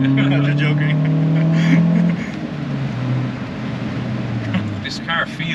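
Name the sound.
Audi RS3 engine while driving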